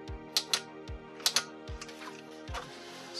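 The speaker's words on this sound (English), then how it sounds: "And now our power button should actually work since we have that installed there. Ooh, that's a nice clicky sound." The power button on a retro 1998 AMD K6-2 PC case clicks several times, crisp snapping clicks in pairs with low thumps, close and quiet with no talk.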